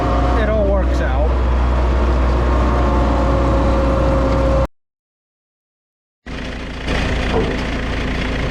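A vehicle engine rattling from broken muffler bolts runs loud and close with a rough, throbbing drone, cuts out briefly to silence, then resumes just as heavily.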